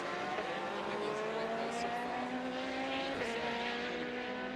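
Race cars roar through a 1000km endurance race at the Nurburgring, engines holding a loud, steady drone with shifting pitch as one car attempts a pass for the lead, tires faintly squealing beneath.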